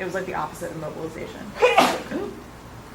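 A single sharp human sneeze bursts out mid-sentence as someone speaks, with the talking continuing before and after it.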